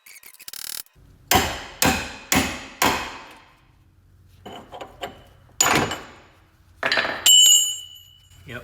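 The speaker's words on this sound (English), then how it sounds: "I think I should be able to just split that with a cold chisel, and it should just fall off." A hammer drives a cold chisel to split a part on the front end of a 2000 Blazer ZR2 truck, giving four evenly spaced sharp metallic strikes, then a few more scattered blows, close and loud.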